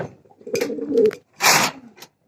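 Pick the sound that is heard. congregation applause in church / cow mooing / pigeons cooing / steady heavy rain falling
pigeons cooing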